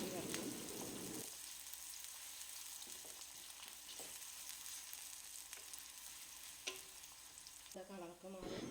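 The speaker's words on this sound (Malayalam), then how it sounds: "ചെറിയ സവാള ഇട്ട് എടുത്തിട്ടുള്ളത് അത് നന്നായി ചെറുതാക്കി അരിഞ്ഞിട്ട് ഇട്ട് കൊടുക്കാം ഇനി ഇതിൻ്റെ കളർ മാറുന്നത് വരെ ഒന്ന് വയറ്റിയെടുക്കാം" Finely chopped small onions sauté in hot oil for a mantha fish curry, a steady close sizzle running throughout with a few soft stirring clinks and scrapes near the end.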